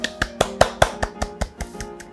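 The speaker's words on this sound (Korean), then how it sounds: "환영의 박수 부탁드릴게요." Slow, evenly spaced claps, about a dozen sharp strikes in a steady rhythm, close and fairly loud, as a small group welcomes a guest onto a studio set; no talking.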